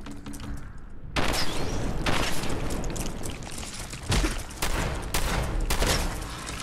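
Rapid gunfire bursts from the video game Fallout 4 ring out loud and near, starting abruptly after a quiet second and continuing as dense, overlapping volleys with brief swells.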